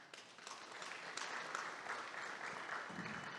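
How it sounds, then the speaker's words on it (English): Steady audience applause at a startup pitch-day event fills the room, a dense wash of many hands clapping at even loudness for a few seconds, with a faint voice briefly audible near the end. "Please give John a round of applause."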